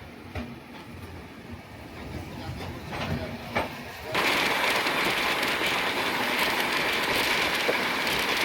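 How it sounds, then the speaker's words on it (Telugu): The Janshatabdi Express from Delhi toward Mathura gets under way: at first a quiet cabin hum with faint knocks, then a sudden steady roar of running gear and rushing air fills the carriage, loud and continuous. "ఎగ్జాక్ట్గా మన ట్రైన్ 12:50కి అయితే మూవ్ అయిపోయింది"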